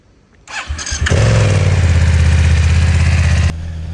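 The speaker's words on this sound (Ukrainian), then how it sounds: "Найбільшим недоліком цього мотоцикла, на мою думку, є його звук" A BMW F900R motorcycle engine cranks and fires, revs briefly, then settles into a loud, steady, low idle close by.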